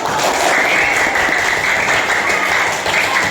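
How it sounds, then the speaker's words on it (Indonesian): Students in a classroom applaud together, a steady wash of clapping that holds evenly for a few seconds and fades slightly near the end. "Beri tepuk tangan dulu."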